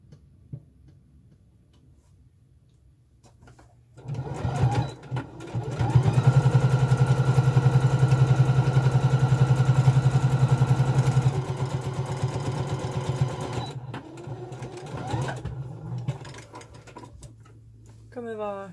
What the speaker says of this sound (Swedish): nu ska jag sy en liten bit in